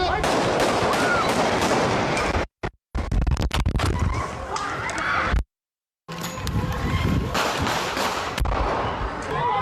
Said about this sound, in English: it doesn't sound like AK-47 shots in this video